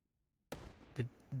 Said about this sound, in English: Did you hear an explosion just now?